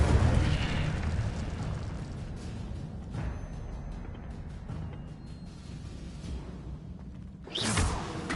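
An Incendio fire spell cast in a video game: a sustained roaring, rumbling rush of flame that holds steady, then flares into a sharper whooshing burst near the end.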